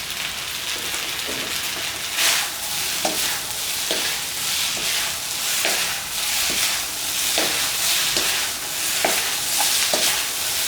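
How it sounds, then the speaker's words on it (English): Sesame chicken pieces sizzle loudly in a hot pan as they are stir-fried in a tangy sauce, with steady frying hiss and repeated scraping strokes of a utensil every second or so. "You dry up the sauce a little bit more."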